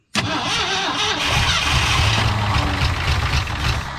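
Engine of an abandoned 1968 Ford F100 Ranger catching after a silent moment, then running loud and rough at a steady idle up close, with no talk over it.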